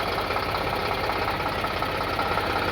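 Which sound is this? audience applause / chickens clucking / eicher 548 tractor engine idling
eicher 548 tractor engine idling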